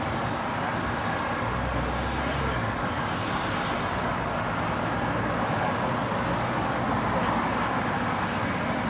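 A Norse Atlantic airliner rolling for takeoff at Los Angeles International Airport, a steady broad jet engine roar that holds level throughout, distant but constant, with a faint voice underneath.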